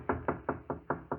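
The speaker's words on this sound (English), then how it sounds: "there was a knock on the door" Knocking on a door as a radio-drama sound effect: six evenly spaced, firm raps in quick succession, close and alone without talk.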